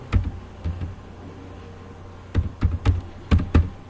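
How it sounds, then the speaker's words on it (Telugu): Keystrokes on a computer keyboard, heard up close as short, crisp clicks. A few scattered taps come first, then after a pause two quick bursts of several keys each. "టైప్ చేసి ఎంటర్ క్లిక్ చేయండి"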